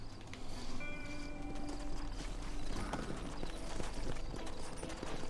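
Horse hooves clip-clop steadily in Red Dead Redemption Remastered on PS4, a continuous rhythmic trot that holds close and fairly loud over a bed of game ambience.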